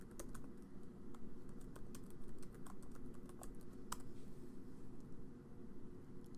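Quiet, quick clicks of an email address and password being typed on a computer keyboard, set over a steady low hum of background noise with no voices.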